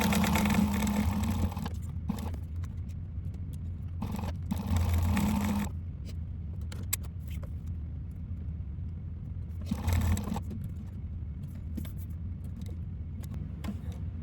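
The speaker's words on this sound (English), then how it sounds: "So we're just gonna go top stitch" A sewing machine topstitches a candy bag in three short bursts of rapid, even stitching, each followed by a quiet pause with a low background hum.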